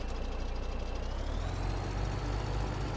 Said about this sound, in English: Oop, let this truck go by.